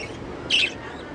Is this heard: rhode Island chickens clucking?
no